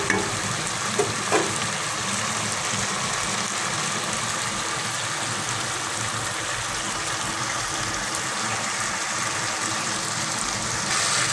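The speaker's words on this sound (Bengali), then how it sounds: "আমি মাছের মাথাগুলিকেও ভালো করে মশলার সাথে কষিয়ে নিচ্ছি।" Hilsa fish heads sauté with spices in a pan, a loud, continuous sizzle that holds steady throughout, with a couple of light knocks near the start.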